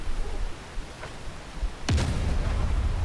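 In the video game Delta Force, a grenade goes off with one sudden sharp blast after quiet background noise, followed by a lingering rumbling roar.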